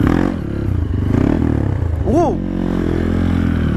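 A bored-up Honda CRF150L trail motorcycle revs up for a wheelie, its engine drone swelling into a sharp rising rev midway through, with a rider's voice briefly exclaiming close by.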